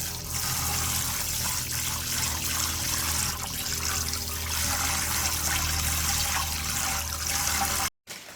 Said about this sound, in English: Adding some rice to my container. Then I'm going to give that a thoroughly wash and add to my pot.